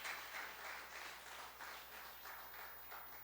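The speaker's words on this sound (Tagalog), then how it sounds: "Malakas ang palakpak sa Panginoon." A church congregation applauds during a Sunday celebration service, a steady wash of many hands clapping together, fairly distant and muted, with no voices over it.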